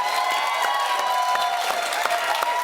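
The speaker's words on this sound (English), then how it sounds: "A round of applause for Tom Homan." A studio audience claps and cheers for a guest on a political news program, with dense, steady applause held at an even level throughout.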